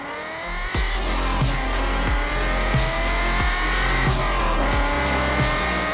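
A Cadillac XLR-V's engine revs loudly and close in a series of sharp, evenly spaced bursts, each surge punching in roughly every two-thirds of a second over a sustained roar.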